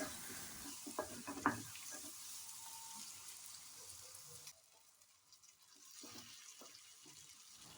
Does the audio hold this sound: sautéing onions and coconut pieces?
yes